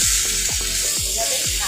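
Ash gourd and pumpkin fry in a pan with a steady, close sizzle, broken by regular scraping strokes of stirring about every half second.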